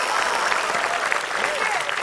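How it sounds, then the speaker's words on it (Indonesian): A studio audience at an Indonesian comedy quiz show claps together in a short, lively burst, dense and fairly loud, with faint voices mixed beneath the applause. "Tepuk tangan dulu dong."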